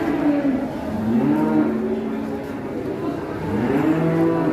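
Large cattle low at a busy livestock market as they come off a truck, sounding as several drawn-out moos over steady crowd and engine noise.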